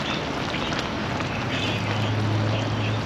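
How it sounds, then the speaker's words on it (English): Steady wind buffeting a microphone outdoors during a fish cookout, a constant broadband rush without pauses and no voices. "It was windy today"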